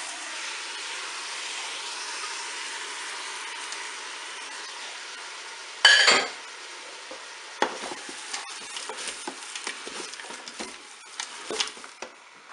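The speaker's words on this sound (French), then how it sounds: "J'ajoute maintenant les poireaux" Sliced leeks tipped into a Cookeo pot already holding salmon, a hissing fry with a sharp clatter as they go in, followed by scattered scraping, stirring knocks.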